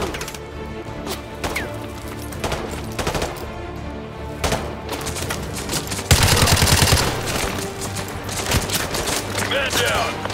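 Heavy gunfire in a Call of Duty: Modern Warfare 2 campaign battle, with repeated close shots and sustained volleys over a dense combat din and soldiers' shouted voices.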